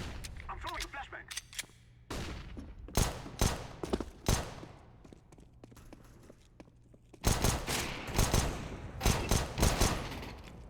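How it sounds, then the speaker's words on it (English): Counter-Strike gunfire on the Mirage map: loud bursts of shots cluster early on, then sharper volleys come in rapid succession after a quieter stretch, with faint footsteps and a voice speaking in between. "I'm throwing a flashbang."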